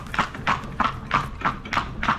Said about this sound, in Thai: มาเมืองลำปางได้ขึ้นรถม้าแล้ว